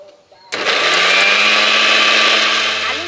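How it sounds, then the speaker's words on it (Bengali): A kitchen mixer grinder whirs up a paste of raw potato, garlic and green chili, starting abruptly after a quiet moment and running loud and steady, close by, with the motor's whine holding until the end. "এবার আমি ঢাকা দিয়ে মিক্সিতে ঘুরিয়ে একটা পেস্ট তৈরি করে নেব।"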